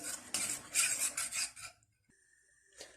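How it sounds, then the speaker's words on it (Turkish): A utensil stirs a milk mixture in a metal pot before it goes on the stove, a brisk scraping and clinking for about a second and a half, then quiet with a faint tone and a last clink. "Ocağa koymadan önce karıştırıyorum."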